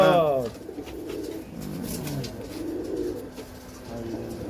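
Pigeons kept by a Punjabi pigeon fancier coo in a run of low throaty calls, close and fairly loud, with a voice talking over part of the cooing.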